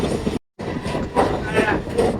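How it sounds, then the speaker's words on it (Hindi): A local train on the Sealdah-Ranaghat line running steadily, a loud, close rumble from inside with rhythmic wheel noise, cut by a brief silent gap, and voices talking over it. "उधर से लोकल आ चुके दोस्तों सियालदा के लिए"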